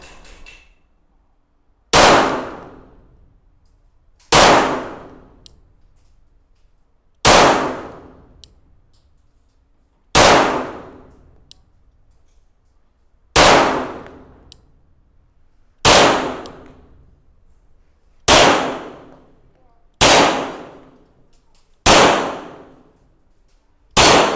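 A RIA Tac Ultra 9mm 1911 pistol fires lead round nose rounds at a range, ten loud, sharp shots spaced evenly about two and a half seconds apart, each with a brief decaying echo.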